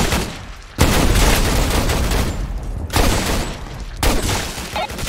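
In Roblox, the player's gun fires in loud, rapid volleys, with dense bursts of gunfire broken by short pauses, close and harsh.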